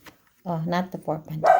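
A dog barks loudly nearby in a quick burst of several barks, overlapping with a person talking indoors.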